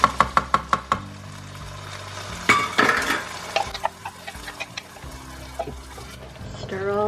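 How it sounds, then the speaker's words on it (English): A utensil knocking and scraping against a pot on a stove while ingredients are stirred, starting with a quick run of sharp taps, then softer irregular clinks and wet stirring close by, with someone talking throughout. "Stir all that in with it."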